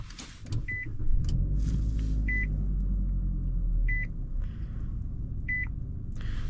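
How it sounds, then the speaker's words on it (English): A 2023 Nissan Altima 2.0 SR Turbo being started: a low engine hum rises under a cabin, while a repeated electronic chime beeps four times at regular intervals. "let's start her up."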